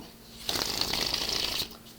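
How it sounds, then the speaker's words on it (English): A tarot deck is riffle-shuffled once, a quick crisp flutter lasting about a second, close up and fairly quiet. "So as I finish up my last 3 shuffles here"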